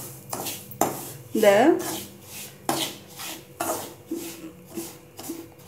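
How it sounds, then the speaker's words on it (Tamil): Semolina roasts in ghee in a pan, left from frying cashews and raisins, as a spoon scrapes and knocks against the metal in uneven strokes while someone talks. "இப்போது அந்த முந்திரி திராட்சை வறுத்த அந்த நெய்யிலேயே இப்போ அந்த ரவையை கொட்டி நல்லா அதில் வறுக்கணும்."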